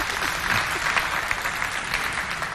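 An audience applauds a doctor who has just given a talk at a youth holiday debate event, steady dense clapping throughout at an even level with no voices over it.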